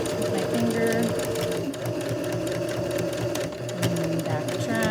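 Sewing machine stitching a fabric face mask, a steady loud mechanical whirring hum running throughout while a person talks over it.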